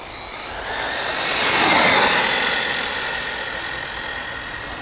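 Electric motor whine of an ECX Torment 4X4 RC truck making a speed run, a high rising and falling whir with pitch sweeps that swells to a peak around the middle of the pass and then fades slightly, with no talk.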